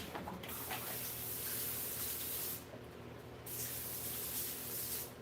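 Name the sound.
spraying water on a cut rock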